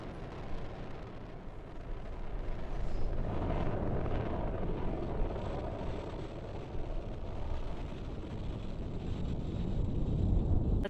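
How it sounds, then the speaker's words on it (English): SpaceX Falcon 9 lifting off carrying the SPHEREx and PUNCH spacecraft: a steady, dense, low roar with crackling rumble, sustained and fairly distant, buffeted by wind, with no talk. "Liftoff of the Falcon 9."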